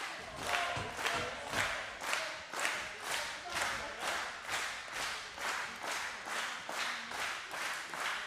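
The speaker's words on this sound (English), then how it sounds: "The crowd here absolutely going crazy." Wrestling crowd at a SoCal Pro Wrestling show in Vista, California, roaring and clapping in steady rhythmic pulses, loud and sustained throughout like a chant with synchronized claps.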